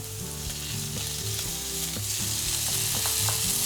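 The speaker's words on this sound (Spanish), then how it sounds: "En un poquitín de aceite rehogamos cebolla." Onion sautéing in a little oil as the sofrito base for a vegan arroz negro. A steady, dense sizzle crackles throughout, with music playing underneath.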